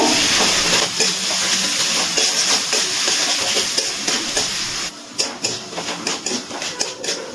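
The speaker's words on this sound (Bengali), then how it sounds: "টমেটোটা দিয়ে একটু মশলার সাথে নাড়াচাড়া করে একটু টমেটোটা গলিয়ে নেব" Chopped tomato cooks with spices in a pan for a Bengali chicken curry with potatoes, a loud continuous sizzle that gives way to rhythmic bursts of spoon-scraping as the mixture is stirred.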